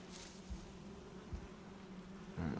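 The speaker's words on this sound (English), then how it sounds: "I can hear some bees in here." Faint, continuous buzzing of bees around a building in the video game Rudiheim, a low steady drone with a few soft bumps and no talking.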